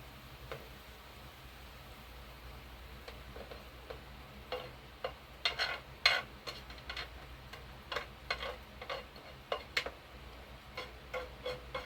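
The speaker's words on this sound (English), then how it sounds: "Then you just stir it in" Spaghetti stirred in a thin pot on a low-heat stove, heard as scattered light clicks and taps of a utensil against the pot, irregular and close, over a faint steady background with no talk.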